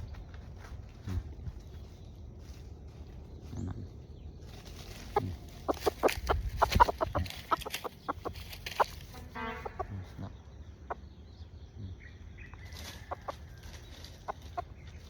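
Roosters and hens clucking on a rural farm, with a burst of sharp calls and scuffling in the middle amid quieter background clucks, fairly close.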